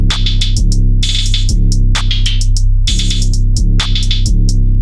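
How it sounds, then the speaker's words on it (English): A quantized hi-hat pattern of crisp, evenly spaced ticks and short open splashes rides over a loud, steady bass-heavy beat, tight and mechanical in rhythm with no talking. "now your hi-hats have a distinguished flavor to them"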